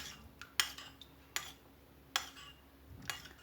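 A spoon stirs lemon juice into a bowl of yogurt, giving sharp metallic clinks against the dish at a steady, spaced rhythm, faint and close with no voices.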